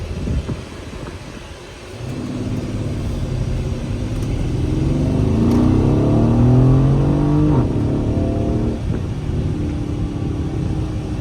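A 2017 Mercedes GLE63 AMG with 577 horsepower accelerates in sport mode, its engine rising from a low rumble to a strong, steady roar that peaks mid-clip and then eases, heard from inside the cabin with no talking.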